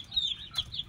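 Young chicks offered for sale in a pair, cheeping in repeated thin high-pitched peeps, steady and fairly faint over low background noise, with no talk.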